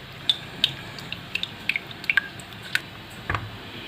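Spices stirred into onion water in a bowl as a marinade for a meat and potato tagine, giving faint, wet squishing clicks and small drips at irregular intervals, close by.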